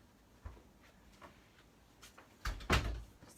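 An indoor door swinging shut at a cottage, ending in a solid thud and brief rattle after a few faint knocks and shuffles, moderately close with no talk.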